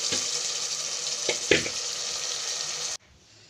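Palak spinach paste frying in a pan makes a steady loud sizzle with a couple of sharp splatters before cutting out abruptly near the end.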